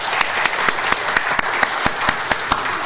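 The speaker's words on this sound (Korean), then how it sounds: "하나님께 감사와 영광의 박수를 한번 올려드리면 좋겠습니다" A congregation at a church's 44th anniversary service breaks into applause, a steady, full wash of many hands clapping that carries evenly through the whole stretch.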